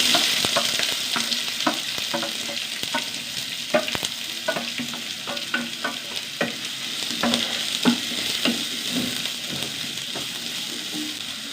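Sliced onion frying in hot oil with popped mustard seeds, a continuous close sizzle broken by frequent sharp crackles, pops and stirring clicks.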